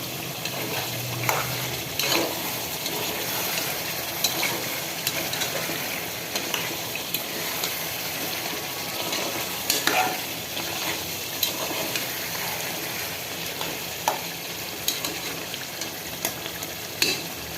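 Meat curry in homemade spice masala sautéing in a pan, a continuous close sizzle and hiss with occasional spatula scrapes and stirring knocks, steady and fairly loud with no talk.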